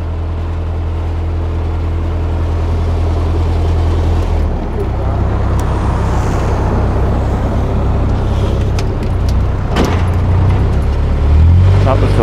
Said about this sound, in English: That was the lorry.